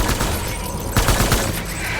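Gunfire bursts in the video game Death Stranding, a rapid cluster of loud shots near the middle of the stretch over a steady game ambience, with no talking.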